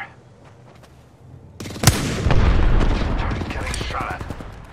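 Bursts of rapid automatic gunfire and sharp shots erupt in a video game firefight, loud and close, beginning with faint distant pops before a sudden heavy barrage with booms, while a voice speaks over it.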